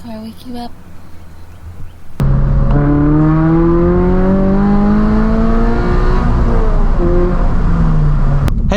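Loud, close engine revving from a 2022 Subaru BRZ with a K&N intake, kicking in abruptly after a quiet start with rising and falling pitch sweeps. A voice speaks briefly before the engine comes in.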